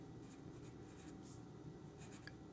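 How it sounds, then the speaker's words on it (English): Faint pen or pencil strokes writing instructions by hand on paper, soft scratchy bursts in an uneven rhythm over quiet background hiss. "I'm gonna write the instructions down here."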